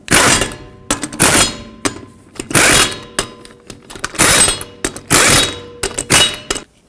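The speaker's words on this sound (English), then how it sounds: "Start on all 5 of your lug nuts. We'll bottom them out and torque them to 100 foot-pounds." Lug nuts go back onto the front wheel of a 2006-2011 Chevrolet HHR and are driven down with a power tool. Loud bursts of rapid, ratcheting hammering repeat a dozen times, with short pauses between them.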